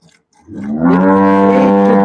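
A dairy cow gives a long, loud moo with strong harmonics, starting after a brief quiet moment and sustaining to the end, with no talk over it.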